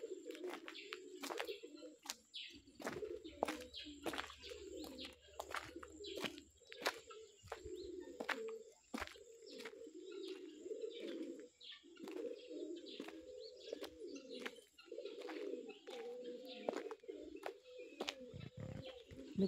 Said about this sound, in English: The birds are there, guys. They're enjoying their morning.